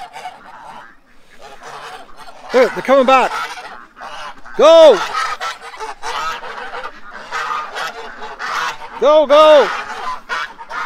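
A bird called Magoo and others honking loudly in several clustered bursts of harsh, goose-like calls, close by, while a person talks excitedly between and over them.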